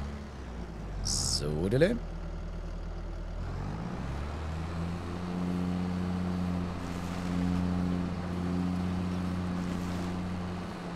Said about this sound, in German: wenn dann hier die Fräse angemacht wird, dann hat er nämlich auch ganz schön zu arbeiten